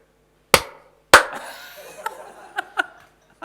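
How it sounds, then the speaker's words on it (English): Two sharp, loud hand claps close by, about half a second apart, followed by a few fainter, lighter taps and slaps in a quiet room. "Let me hear me clap again."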